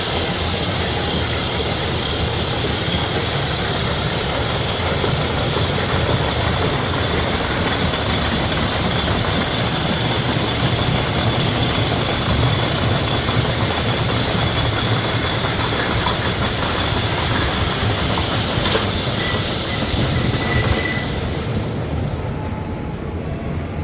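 An amusement park ride train at Rye Playland gives off a loud, continuous mechanical roar and rumble that stays steady throughout, then drops off abruptly at the very end.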